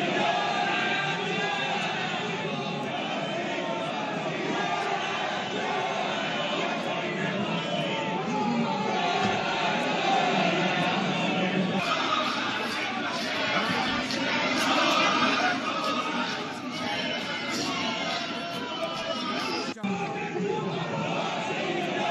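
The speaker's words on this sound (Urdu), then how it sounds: "تو وہ یہ ہنگامہ آرائی تھی جس کی ہم بات کر رہے تھے، وہ شور شرابہ تھا" Uproar in Pakistan's National Assembly: a dense, continuous roar of many raised voices, shouting and slogan chanting fills the chamber at steady loudness throughout, with no single voice standing out.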